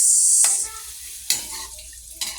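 Pork meat for dinuguan sizzling in a pan while being stirred, a hiss that drops away early, then a few sharp scraping clatters of the spoon against the pan.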